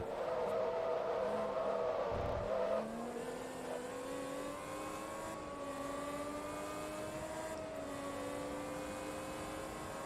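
Steady race car engine drone in Forza Motorsport 2, a continuous tone that dips once early and then holds level and moderately loud, with no talk over it.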